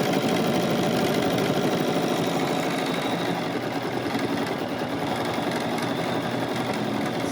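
A Bernina 770 embroidery machine stitches a design with a steady, fast mechanical whir and rhythmic needle chatter, close and continuous with no talk.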